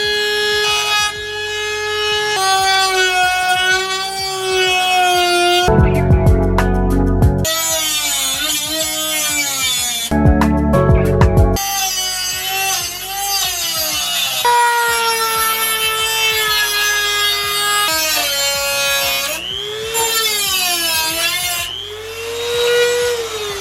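A Dremel rotary tool cuts through the decklid of a 15,000-mile Mustang, a loud, high whine that slides up and down in pitch under load, broken by a couple of harsher grinding bursts.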